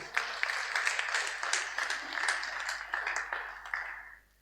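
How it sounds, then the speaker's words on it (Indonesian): A congregation at a Sunday worship service in a Bethany church claps together, a fairly soft but continuous patter of many hands that tapers off toward the end. "Tepuk tangan untuk Tuhan."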